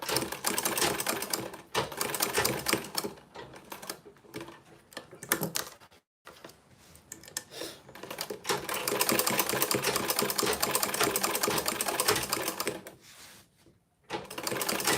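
A sewing machine stitches over an earlier stitch line, basting an ankara print to interfacing for a bag, running in long rapid mechanical bursts broken by brief pauses, close and prominent.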